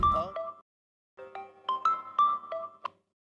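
Phone ringtone playing during a call, a short melodic run of bright electronic tones, then a pause, then a longer repeating phrase of ringing tones, clear and close with no talk over it.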